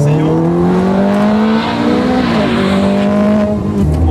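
A Ferrari F430 Scuderia drives hard through corners, its loud, close engine note rising and falling through gear changes with brief tire noise, continuous and without talk.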